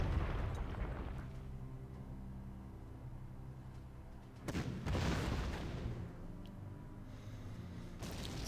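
Artillery fire in the wartime strategy game Panzer Corps: a deep rumbling boom opens, then a second heavy blast lands midway and rolls into a long fading roar, with no talk over it.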